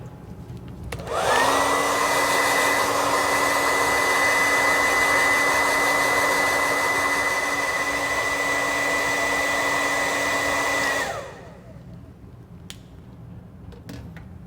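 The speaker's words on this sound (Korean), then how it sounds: "드라이기를 사용하여 최대한 말려줍니다" A hair dryer drying wet nylon whirs steadily at close range for about ten seconds, a constant airy roar with a faint whine, then switches off to quiet.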